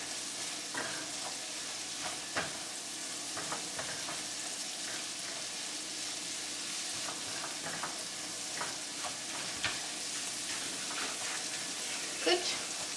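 Ingredients with a tablespoon of tomato paste stirred in a sizzling pan on an off-grid remote island, with a steady frying hiss and intermittent scraping clicks from the utensil, close and moderately loud.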